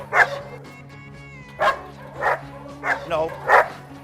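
A dog barks at another dog, giving about six sharp, loud barks in irregular bursts over a low background hum.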